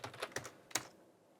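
Quick typing on a computer keyboard, a short burst of four or five soft clicks close by and quiet, then silence.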